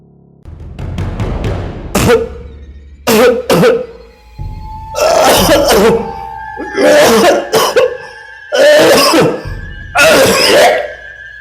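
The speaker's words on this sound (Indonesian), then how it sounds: "Aku mendengar ayah terbatuk-batuk di dalam kamar" A man coughing repeatedly and harshly, with throat-clearing and gasping breaths between the fits, loud and close.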